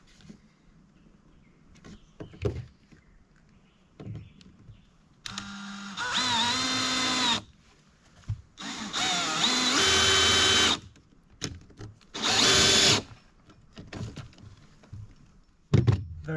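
A power drill whirs in several bursts, driving new screws through sheathing on the walls of a campsite outhouse, each run a second or two long with tapping and handling noises between.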